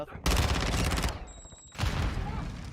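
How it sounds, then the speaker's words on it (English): A new assault rifle fires in Call of Duty, heard as two loud bursts of rapid automatic gunfire split by a short pause. "I also like that it sounds all big and heavy when you shoot."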